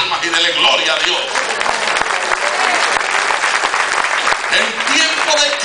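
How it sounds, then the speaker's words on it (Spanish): A church congregation claps hands loudly and continuously, a full crowd of overlapping claps with sharp individual slaps standing out, a voice or two carrying through at the start and near the end. "Bata sus palmas y dele gloria a Dios"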